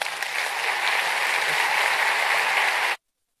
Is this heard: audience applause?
yes